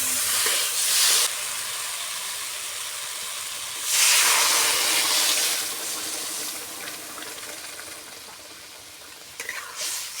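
Water is poured into a hot pan of sautéed live Kurfu fish and flat beans, giving a loud steaming hiss that flares briefly, then settles into a softer bubbling sizzle with a small clatter near the end.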